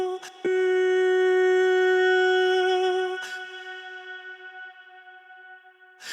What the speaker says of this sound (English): this reverb is gonna take up this silence here.